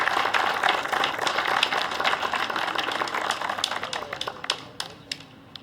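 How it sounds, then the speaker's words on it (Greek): Applause for a player at a teqball showing by Asteras Menidiou: a small group clapping in quick irregular bursts that thin out and fade toward the end. "Ένα χειροκρότημα στο Χρήστο."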